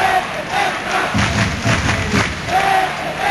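A large ice hockey arena crowd roars and chants steadily through the whole stretch, loud and continuous, with thumping noise mixed into the swelling cheers.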